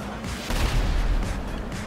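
Explosions go off during a GTA V car race, with deep booming rumbles and crackling blasts layered over continuous engine and game noise at moderate volume.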